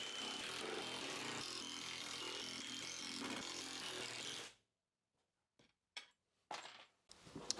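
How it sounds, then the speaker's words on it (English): A power drill bores holes through the wooden base of a casting form, running loud and steady for about four and a half seconds before stopping, followed by a few short knocks and handling sounds. "I'm drilling some holes so I can put some screws in from underneath just to hold everything tight."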